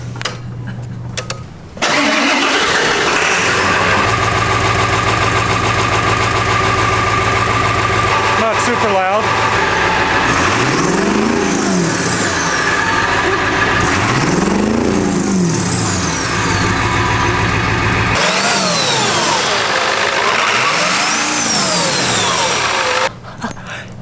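A cold 1997 Ford F-250 with a 7.3 diesel starts and idles with a steady, fairly loud clatter, while rising and falling turbo whistles sweep through it several times. People talk over the engine.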